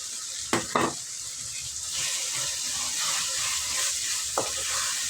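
Boiled, peeled colocasia (taro) goes into oily tomato masala for a spicy kara kuzhambu and fries with a continuous bright sizzle, marked by a few close clacks of the utensil near the start and again later.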